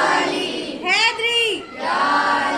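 A crowd at a Shia religious gathering in an imambargah shouts the slogan "Haidari" in unison, a loud, rising collective cry over a murmuring audience, ending as a speaker's voice resumes.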